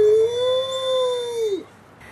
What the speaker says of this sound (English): I'll give Shadow a moment here to howl